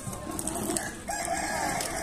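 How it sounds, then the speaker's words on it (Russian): A rooster crows across the clip at a petting zoo, its drawn-out call rising and holding, with faint barnyard noise around it. "Здесь петушки, да?"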